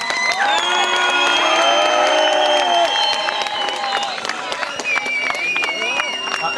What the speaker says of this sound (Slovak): Poriadny potlesk.